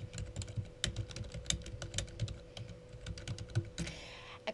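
Fingers type on a computer keyboard in a steady, uneven patter of fairly close clicks and key taps, with a brief rustle near the end and no speech.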